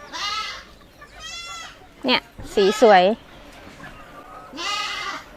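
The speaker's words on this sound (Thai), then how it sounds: "อุ้ยลูกแพะน่ารัก" Baby goat at a charity animal cafe gives several short wavering bleats, close and clear, in between which people talk nearby.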